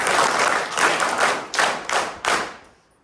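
An audience at a ceremony claps in a loud burst that swells and dips in several waves, then fades out toward the end.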